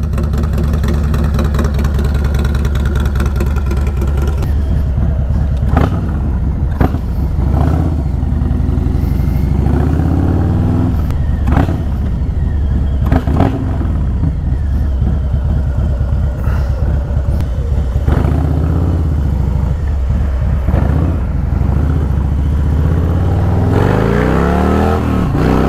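A Harley-Davidson 117 ci Stage 2 engine with a Star 30/30 cam revs up close and loud for about 25 seconds, with repeated throttle blips rising out of a deep, lumpy idle.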